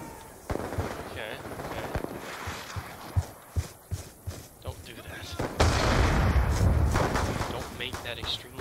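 Light machine gun firing in a Call of Duty video game, with sharp shots in irregular bursts and singles, then a louder sustained stretch of gunfire, while a person talks over the action.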